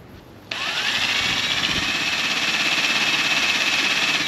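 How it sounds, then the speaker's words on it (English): After a short quiet lead-in, a power drill bores a hole into the body of an offroad camper trailer, starting abruptly with a loud, steady whine that holds on at full speed. "so let's drill the hole."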